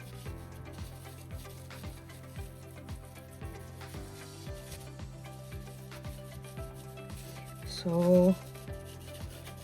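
A terra sigillata clay pendant is burnished by rubbing, giving soft repeated scraping strokes in a steady rhythm, close and fairly quiet, with a brief voice and a short musical tone near the end.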